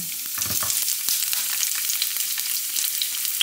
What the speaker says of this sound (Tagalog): Mainit na yung ating oil. Ilalagay na natin yung ating garlic.